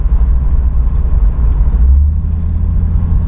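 A Pontiac Firebird Trans Am engine with a McFly Concept exhaust rumbles steadily up close, its low drone swelling slightly as it revs, with no voices present.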